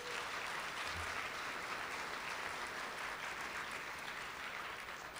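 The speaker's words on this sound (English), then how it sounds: "Big round of applause." Guests at an awards luncheon give a steady, sustained round of applause. The dense clapping fills the room at a moderate distance.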